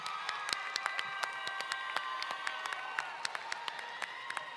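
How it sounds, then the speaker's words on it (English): Applause with light cheering from a John F. Kennedy High School graduation audience, crisp individual claps scattered over a sustained crowd murmur with tonal voices, moderately distant and even throughout. "Let's give a round of applause for the top 10 once again"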